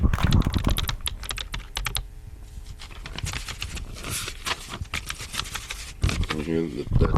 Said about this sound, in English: Do you hear the typing?